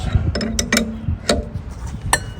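A hand wrench works a bolt loose on a Dodge 360 engine, giving a few sharp metallic clicks and ratcheting taps spaced irregularly, close and fairly loud with no speech.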